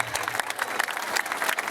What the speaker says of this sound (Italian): Fate un applauso, mannaggia la miseria